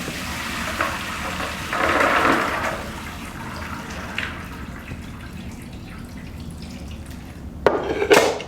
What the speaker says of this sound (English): So we are going to drain this water.